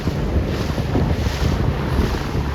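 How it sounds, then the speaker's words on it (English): Strong wind of about 14 knots buffeting a 29er sailing dinghy during a race, a loud steady rushing roar of wind noise with water wash underneath, no voices. "This is the windiest part of the day. I think this is 14 knots."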